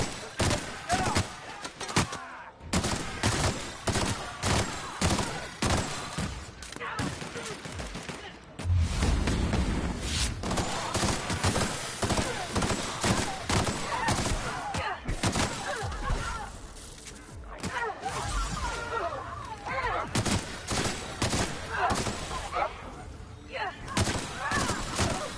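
Sustained gunfire during a fight with Marauders on Gorgon in The Outer Worlds: rapid repeated shots and impacts run almost throughout, loud and close, with speech mixed in over the firefight.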